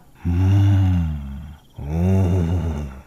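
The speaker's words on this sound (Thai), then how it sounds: "เสียงคำรามของไอ้ลายดังมาเป็นระยะ" A tiger roars in a dark forest at night: two long, deep, rumbling roars close together, the second slightly rougher, with a short gap between them.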